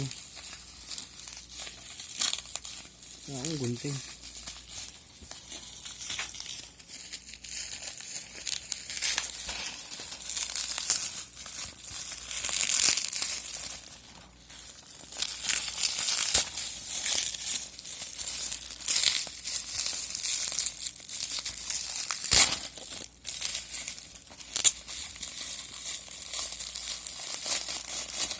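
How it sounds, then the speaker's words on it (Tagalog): A package wrapped in bubble wrap is unwrapped and cut open with scissors: continuous close crinkling and tearing of plastic, with a brief spoken word early on. "So nakabubble wrap siya."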